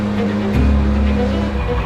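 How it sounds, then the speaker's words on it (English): 800-horsepower Subaru hill climb cars racing up a mountain road at a US rally record event, a loud sustained engine roar with a low throbbing surge midway, close and continuous. "the two 800 horsepower hill climb cars between Higgins and Pastrana have departed up the hill"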